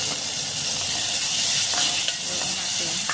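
Chopped tomatoes hit a pan of browned garlic and onion, setting off a loud, continuous sizzle and hiss that holds steady with faint stirring clicks.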